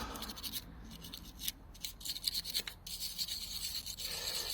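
Toothbrush scrubbing grease off an electrical connector from a Triumph Sprint ST 1050 motorcycle, quiet, close scratchy brushing in quick irregular strokes with brief pauses.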